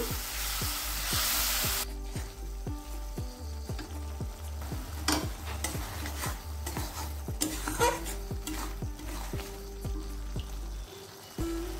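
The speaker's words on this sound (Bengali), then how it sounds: "জল দিয়ে আমি 1 মিনিট রান্না করে নিলাম মশলাটাকে" Spice masala cooks in a pan with a splash of water, sizzling under a repeated rhythmic scraping and tapping of a spatula against the pan, close and continuous.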